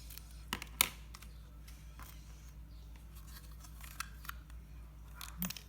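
Scissors snip a small piece of paper in a few sharp, quiet cuts at close range, with faint rustling and brief clicks in between.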